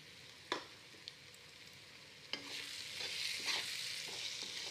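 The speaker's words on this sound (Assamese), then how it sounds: "ফ্ৰেঞ্চবিনখিনি দি ভাজি ল'ম।" French beans fry with onions in a pan, a quiet steady sizzle broken by a few sharp scrapes and clatters as a spoon stirs them.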